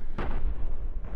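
Ship cannon fire in the space game Cosmoteer: one heavy, booming shot with a low rumbling tail, loud and close, followed by a fainter thud near the end.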